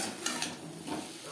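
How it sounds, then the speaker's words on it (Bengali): Cauliflower being stirred together with vegetables in a frying pan: soft scraping and clinking of a utensil against the pan over a faint sizzle, close and fairly quiet. "সবজির সাথে ফুলকপিও বেশ ভালো করে মিক্সড করে দেব।"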